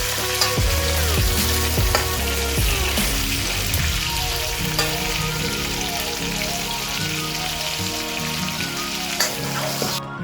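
Three half-cut tomatoes frying in a chicken karahi, a loud continuous sizzle and crackle of hot oil with occasional stirring knocks, close and steady throughout.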